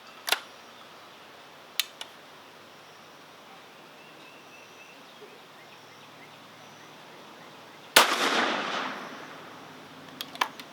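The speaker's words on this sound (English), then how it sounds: "Take a third shot." A Savage Model 24 combination gun, chambered in 30-30 and 12 gauge, fires a single loud shot that rings out with a trailing echo. Faint clicks and handling noises come before it.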